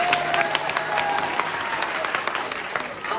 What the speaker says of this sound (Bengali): জোরে একটা করতালি দিয়ে